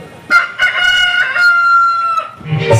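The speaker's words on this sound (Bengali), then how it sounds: "মোরগের আওয়াজ কি তোমার কানে যাচ্ছে না?" A rooster crows once, a long drawn-out call with a rising start and a sustained ringing middle, close and loud, followed by some lower clucking.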